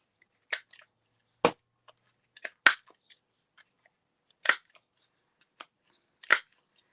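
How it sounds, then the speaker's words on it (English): A corner rounder trims paper corners with six sharp, crisp snips spaced unevenly over several seconds, each a close, quick punch-like click against near silence. "I'm going to trim all 4 corners."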